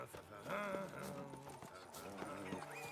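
Horse hooves clip-clopping in The Witcher 3: Wild Hunt, a steady run of soft thuds under in-game music, with a person talking over it.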